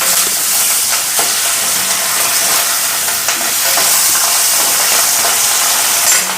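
Rohu fish fries in a pan of hot oil, one side already browned, giving a continuous dense sizzle and crackle close up with no talking over it.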